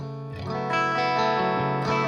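Sustained electric guitar chords ring out through a Boss Katana 50 amp, washed in reverb with a distorted, shimmering tail.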